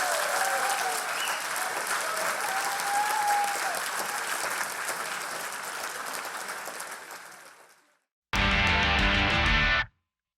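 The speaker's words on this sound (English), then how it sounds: "please give a massive round of applause to Professor Lance Workman" A comedy show audience applauds Professor Lance Workman with sustained clapping and a few whoops, holding strong for several seconds before fading out, then a short loud burst of music follows.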